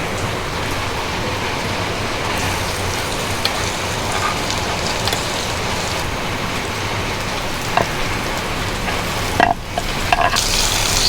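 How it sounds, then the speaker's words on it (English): Bamboo shoots and meat for a Naga-style curry stirred while frying, a loud dense crackling sizzle like heavy rain, with occasional scraping stirs near the end. "Stir it."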